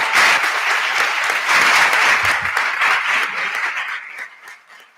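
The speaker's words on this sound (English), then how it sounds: "How about one more big round of applause" A large crowd at a board of education meeting applauds loudly and steadily, the clapping thinning and fading out over the final second.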